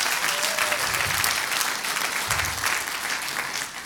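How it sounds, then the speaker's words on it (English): Round of applause from an audience at an entrepreneur leadership event, dense continuous clapping for a few seconds that eases off toward the end. "Let's give her a big round of applause"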